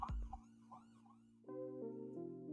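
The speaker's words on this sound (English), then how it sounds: "More sirens." Emergency vehicle sirens wail outdoors, a rising and falling tone followed by steadier layered siren tones, heard at a distance and fairly faint.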